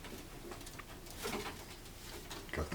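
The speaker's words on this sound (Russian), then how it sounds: "Вот этот краснопоясый голубь." A red-banded pigeon coos among other pigeons, soft low calls surfacing a few times over a busy background of fluttering and shuffling, fairly close.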